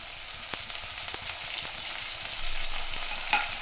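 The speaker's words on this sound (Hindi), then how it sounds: "अब इसमें मैं ये हरी लहसुन डाल दूंगी।" Green garlic and lightly browned onion fry in a pan for Sindhi-style rice, giving a steady close sizzle with small crackles and occasional stirring clicks, no talk.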